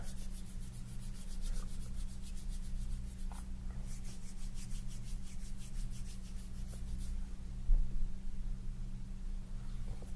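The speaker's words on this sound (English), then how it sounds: "Just let me rub this on your wrists." Soft, steady rubbing of a salve or cream onto wrists, close and gentle, with a faint repetitive scratchy texture over a low hum, no talking.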